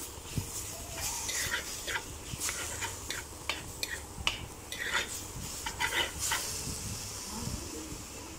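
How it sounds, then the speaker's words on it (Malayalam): Beetroot is sautéed with salt in a pan, with repeated sharp scrapes and clinks of a spatula against metal over a low background hiss, irregular strokes throughout, and a faint voice at times. "ഉപ്പ് ചേർത്ത് നമുക്കൊന്ന് നന്നായിട്ട് രണ്ടോ മൂന്നോ മിനിറ്റ് കൂടെ ഒന്ന് വഴറ്റിയെടുക്കാം"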